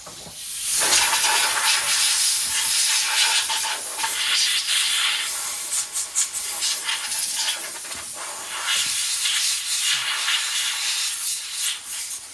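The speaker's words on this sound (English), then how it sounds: "Let's blow it with a little air." Strong, continuous hissing blast of compressed air, loud and close, with short breaks and changes in intensity over several seconds.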